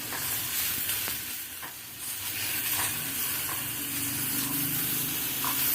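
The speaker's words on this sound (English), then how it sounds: "let's add our chopped onions" Chopped onions hit a hot pan on an inverter cooking setup in a van, giving a bright, continuous sizzle with crackling pops and occasional scraping stirs, close and steady throughout.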